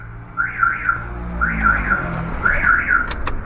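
A neighbouring car's alarm sounding in a used car showroom, a repeating warbling electronic siren pattern cycling three times at an even pace, clear and fairly near.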